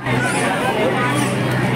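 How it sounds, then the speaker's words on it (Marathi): Dense crowd chatter fills a busy water park, a continuous close babble of many overlapping voices with no distinct sounds standing out. "खूपच गर्दी."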